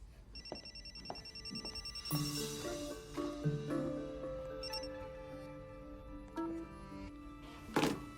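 A cell phone rings indoors with a synthetic melodic ringtone of repeated electronic tones, fairly faint, joined by scattered knocks and handling noises.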